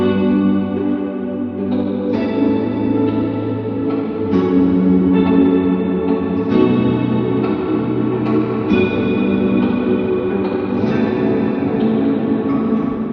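Sustained chord-like tones swell and shift under a big Hollywood reverb set to the Pure Crystal preset, with a long, clear, pristine tail washing over each change; loud and alone, no voices.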